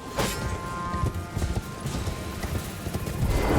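Rapid hoofbeats of a galloping horse in Elden Ring clatter steadily throughout, close and moderately loud over a faint background hum.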